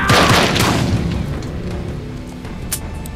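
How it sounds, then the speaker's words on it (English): A gunshot strikes the player in the PS4 game Days Gone, opening with a loud, heavy boom that rolls off over a couple of seconds, followed by a faint sharper crack near the end. "That just shot me in my arm."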